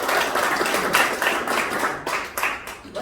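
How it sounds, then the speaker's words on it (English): Steady audience applause at an indoor meeting, continuous close clapping from a room of people for a few seconds. "I'd like to applaud him"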